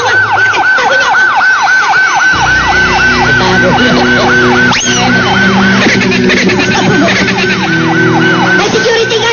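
An emergency vehicle siren wails loud and close in fast rising-and-falling cycles, then shifts to a slower pattern, with other traffic sounds mixed underneath.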